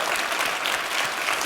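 An audience in a conference session at a 2022 summit claps together, a dense, steady burst of applause that fills the room throughout.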